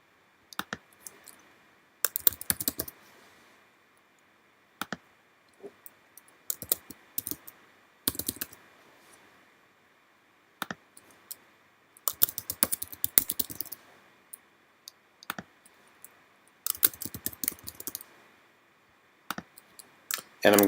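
Keys clatter on a computer keyboard in short, quick bursts separated by pauses, close and fairly crisp over a faint steady hum.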